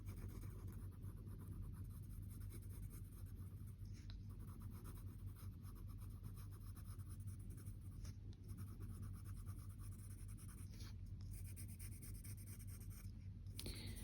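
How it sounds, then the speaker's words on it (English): Graphite shading on cotton paper makes a soft, continuous scratching, steady and close, with faint breaks where the strokes pause, over a low background hum. "hearing the scratch, scratch, scratch against the beautiful cotton tile paper"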